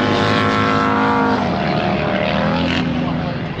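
Loud racing motorcycle engines roar close by at a MotoAmerica race at Road Atlanta, a droning whine that drops in pitch as the bikes pass.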